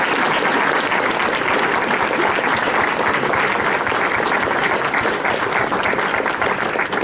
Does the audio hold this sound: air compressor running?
no